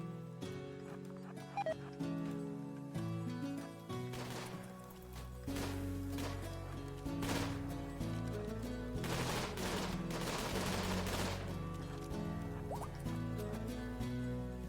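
Gunfire in the Imps versus Zombies video game, scattered rapid volleys of shots that build into dense bursts over game music.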